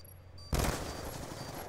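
Video game gunfire erupts suddenly as a dense, loud burst of shots after a brief quiet lead-in, then stays a sustained rattle to the end.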